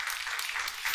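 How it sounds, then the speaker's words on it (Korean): A church congregation at a Sunday worship service applauds in a brief burst of dense clapping that fills the room. "박수 한번 할까요?"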